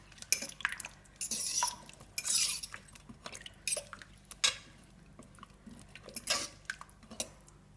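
A spoon stirs coconut cream into a vegetable and chickpea curry in a crockpot, with soft scrapes and clinks against the pot coming in short, irregular bursts over quiet, close by and with no talking.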